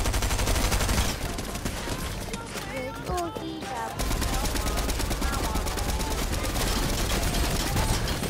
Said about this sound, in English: So why are you shooting Bruno Mars?